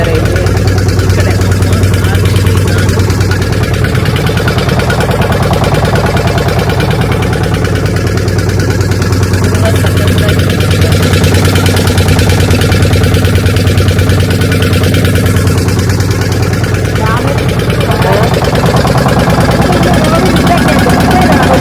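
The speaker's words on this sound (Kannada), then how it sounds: "ಇವಾಗ ಬೋಟಲ್ಲಿ ಹೊರಟಿದ್ದೀವಿ." A river boat's engine runs loud and continuous during a ride past islands and mangroves, a steady close mechanical drone with slight swells in intensity, while voices murmur faintly beneath it.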